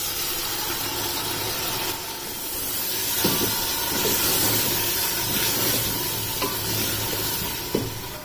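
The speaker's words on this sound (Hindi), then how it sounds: "इस मसाले को इसमें अच्छी तरह से भून लेना है।" Spiced masala sizzles and fries steadily in hot oil with mutton and arbi (taro root), with occasional stirring scrapes and clinks from the pan and no talk.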